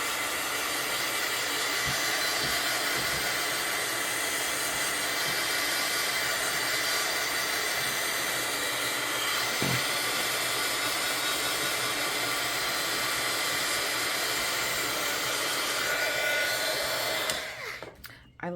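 A hair dryer blows steadily and loudly up close, drying wet oxide ink and modeling paste on tag backgrounds, a constant rushing whine that cuts off abruptly near the end.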